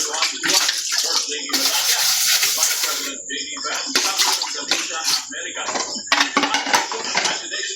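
Dishes being washed under running water, with steady splashing and intermittent clinks and clatters of plates and cutlery close by.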